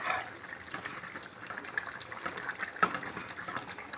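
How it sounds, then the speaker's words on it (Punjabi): Ridge gourd vegetable curry simmering in a covered pot, a steady soft bubbling and gurgling of liquid that runs evenly throughout at close range, with one sharper click midway. "ਆਪਣੀ ਸਬਜ਼ੀ ਰਿੱਝ ਰਹੀ ਹੈ"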